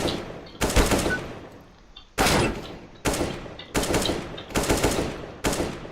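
Rapid gunfire from pre-fire practice against bots on the Mirage map in CS:GO: several sharp bursts of automatic shots in quick succession, loud and close, separated by short pauses.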